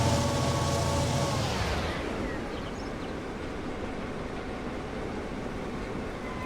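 A train runs in Transport Fever 2, heard first as a loud passing rumble with a tonal whine that slides down and fades into a steady, softer rolling hum.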